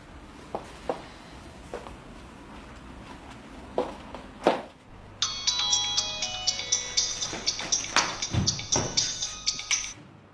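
An electronic phone ringtone plays as a repeating melodic trill, fairly loud and close, following a few scattered knocks and thumps.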